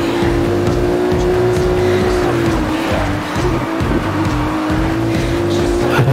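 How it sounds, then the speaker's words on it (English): Ferrari FF racing in Need for Speed Rivals, a steady loud engine drone holding one pitch with tire squeal and skidding noise layered on top, continuous throughout. "Ferrari FF"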